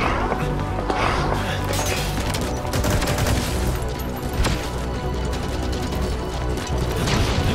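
Sustained gunfire in the video game Metal Gear Solid 5, with rapid loud shots and crashes running throughout amid chaotic combat noise.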